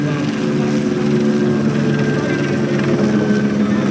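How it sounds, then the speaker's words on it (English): A helicopter circling overhead gives a steady, loud, continuous rotor drone with a low rumbling hum that neither swells nor fades, filling the whole stretch without pause. "there is a helicopter now circling overhead"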